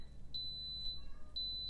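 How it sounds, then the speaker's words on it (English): Three short, high electronic beeps from an Instant Pot sound at an even pace over a quiet background, followed by a sharp click. "then it will beep and it will start counting up"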